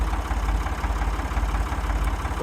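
An old tractor engine idling after a first-time start on a cold day, a steady low rhythmic chug with knocking pulses, close and even throughout, no talking.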